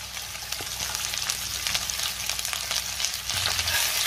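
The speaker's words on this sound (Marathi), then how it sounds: "त्यामध्ये आता आपल्याला चिरून घेतलेली भेंडी घालायची आहे" Chopped okra tossed into hot oil with lightly browned garlic for a Maharashtrian bhendi bhaji gives a steady, close sizzle, swelling louder near the end as the pieces hit the pan; no voices.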